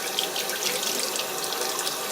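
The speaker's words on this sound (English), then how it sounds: "you just take one of your brushes and soak it first with some warm water" Warm tap water runs steadily from a faucet into a sink to soak a makeup brush, a close, continuous splashing hiss with no talking.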